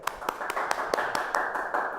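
A TV studio team claps for a guest on a Brazilian talk show, a quick, fairly even run of about ten hand claps, modest in volume and a little distant.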